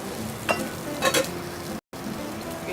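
Basil cream sauce warms in a pan for grilled salmon, giving a soft steady sizzle with a few brief brighter stirring scrapes and light clinks of utensils.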